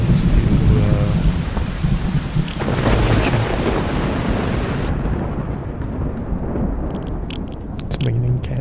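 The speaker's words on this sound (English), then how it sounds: "it's raining cats and dogs" Steady heavy rain with rumbling thunder from the video game Zero Sievert, a dense hiss filling the whole stretch, with a brief voice speaking over it early on.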